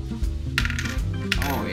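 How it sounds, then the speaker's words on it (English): A handful of coins dropping one after another into a Lego coin bank: close, bright metallic clinks and rattles over a soft musical background, with no talking. "So I got some coins over here, and so we'll just pop them in."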